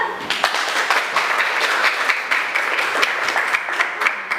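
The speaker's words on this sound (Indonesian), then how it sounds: "Kasih aplaus untuk kelompok 2" A group of people in a classroom applauds for a presenting group, giving dense, steady clapping at close range that keeps an even level throughout, with no talking.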